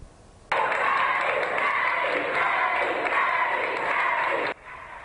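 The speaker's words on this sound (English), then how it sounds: "a local gym erupting into applause and noise for Eddie Alvarez" A crowd in a local gym bursts into loud applause, cheering and shouting, a dense roar of clapping and voices that holds for about four seconds and then cuts off abruptly.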